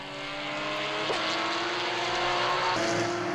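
A Ferrari chasing a Porsche in an endurance race at Mugello, engines roaring steadily at high revs as the cars pass, a sustained loud drone with shifting pitch and no voices.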